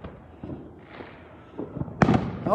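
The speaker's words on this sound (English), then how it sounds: "It's got their fireworks. Listen to it." New Year fireworks burst at a distance, a scattered series of thumps and crackling pops that grow busier and louder toward the end, with no talk.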